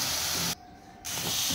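Ground spices, cumin powder and salt, fry in a pan for matar paneer, giving a steady loud hiss that cuts out briefly halfway through and then returns.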